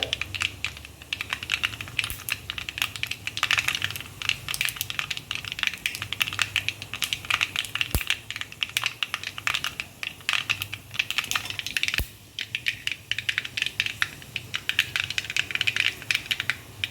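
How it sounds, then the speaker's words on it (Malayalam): Mustard seeds pop and crackle steadily in hot oil in a pan, a dense, continuous sputter with sharper snaps scattered throughout. "ഇപ്പോൾ നമ്മുടെ കടുക് നല്ലപോലെ പൊട്ടാൻ തുടങ്ങിയിട്ടുണ്ട്."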